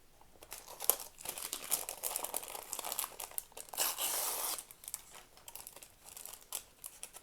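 Paper packaging crinkled and torn open while unboxing the Magic 8 Ball: Magical Encounters board game, close-up bursts of crackling and rustling with brief pauses between handfuls.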